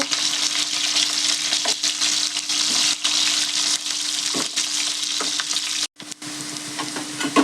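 Bitter gourd pieces sizzle and fry steadily in a pan, with intermittent scraping and stirring knocks as they are turned, continuous and close with a brief pause near the end.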